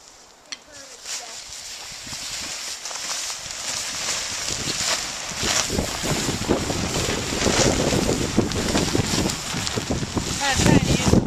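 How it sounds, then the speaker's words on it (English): Strong wind buffets a microphone outdoors while a tipi is packed, giving a steady roar that builds toward the end, with rumbling low gusts and no clear talk. "If we get a good gust of wind, don't be surprised. It's been windy at times down here."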